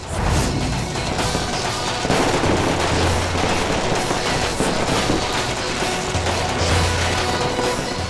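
Fireworks and firecrackers exploding in a dense, continuous barrage of loud cracks and bangs that overlap with no pauses.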